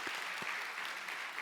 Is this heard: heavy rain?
no